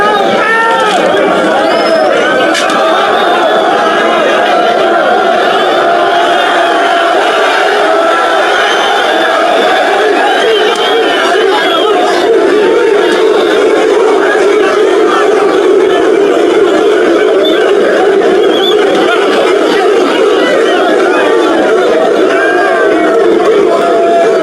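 Moroccan football supporters riot on London's streets after a defeat, a dense roaring crowd of shouts, chants and cries that never lets up, loud and close for the whole stretch.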